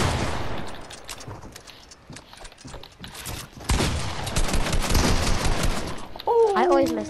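Gunshots in Fortnite, with rapid bursts of gunfire that come dense and loud in the second half, following quieter scattered shots and game noise at the start.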